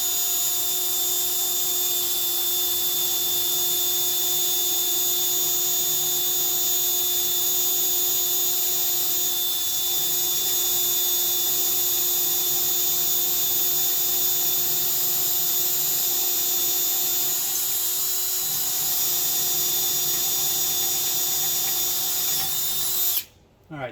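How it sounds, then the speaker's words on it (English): A power drill with a smaller bit bores a hole during a sway bar install on a 1970 VW Bus, a close, continuous high whine held steadily for over twenty seconds before cutting off abruptly at the end. "I'm starting with the smaller bit here first, just to get a hole in this"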